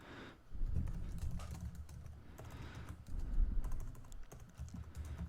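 Keys clatter on a computer keyboard in irregular bursts of typing, close and fairly clear, with brief pauses between runs and no talking.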